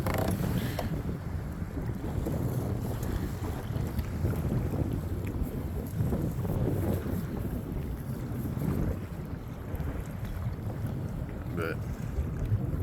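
Wind and waves on the Chesapeake Bay near Breezy Point, Maryland, heard from a Native Titan 10.5 kayak near shore: constant gusting wind rumble on the microphone with sloshing water, steady and loud throughout.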